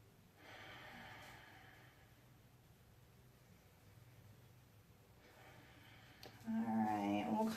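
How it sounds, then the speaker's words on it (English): Slow, soft breaths drawn in and pushed out through the nose during a standing yoga session, faint and close, with a sharper, louder sound at the very end. "do a couple inhales in through your nose and exhales"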